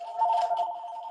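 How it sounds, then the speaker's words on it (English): A telephone rings during an online webinar, heard as one sustained electronic ringing tone, fairly loud and steady, with no speech over it. "the phone is ringing"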